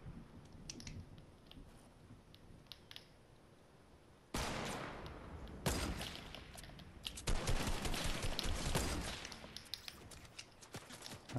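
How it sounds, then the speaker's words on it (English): Faint, distant video game gunfire in Fortnite: quiet scattered shots at first, then louder sustained bursts of rapid firing that continue to the end. "Oh, they're still shooting at them."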